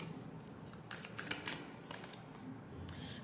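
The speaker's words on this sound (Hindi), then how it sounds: "कुछ कार्ड्स मैं और ले लेती हूँ, फिर मैं दिखाती हूँ।" Tarot cards being drawn and shuffled by hand, a quick series of crisp papery riffles and flicks at close range, fairly quiet with no talking.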